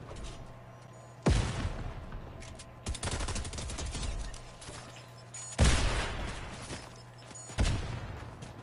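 Fortnite gunfire from several directions: four loud, sharp bursts of shots spaced a second or two apart, each decaying into a rattling tail, with no talking.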